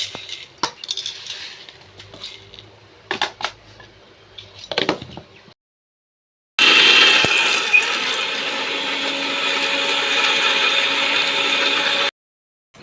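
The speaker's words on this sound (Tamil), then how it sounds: "மிக்சி மிக்சி ஜாரில் ரொம்ப இருக்கிறதுனால கொஞ்சம் கொஞ்சமாக அரைச்சிக்குவோம்" A mixer grinder jar grinds black urad dal for idli podi: a few clinks and rattles of utensils come first, then after a short silence a loud, steady whirring roar runs for about six seconds before cutting off abruptly.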